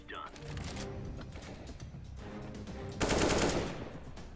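Rapid automatic gunfire in the video game CS:GO, heard as a dense rattling burst that swells louder toward the end, under a player's voice talking.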